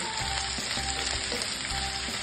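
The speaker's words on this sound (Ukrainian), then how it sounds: "Помішуючи, смажимо до золотистого кольору." Sliced mushrooms fry in hot oil in a pan while being stirred until golden, giving a steady, dense, close sizzle with no one speaking.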